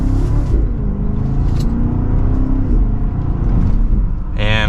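A 2024 BMW X5 M60i accelerates hard from second gear, its engine a loud, deep, continuous rumble heard from inside the cabin, with a rising whine near the end and someone talking over it.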